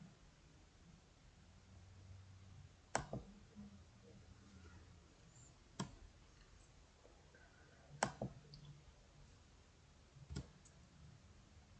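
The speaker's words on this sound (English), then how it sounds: "then click on the Vaccines button" Computer mouse clicking on buttons in a pharmacy app, four sharp isolated clicks spaced a few seconds apart over a faint, quiet background hiss.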